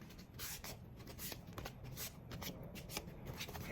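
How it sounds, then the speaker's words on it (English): Paper is folded over by hand during a tumbler crafting job, making dense crisp crinkling and rustling close up, with quick sharp bursts and no voices. "paper, fold it over"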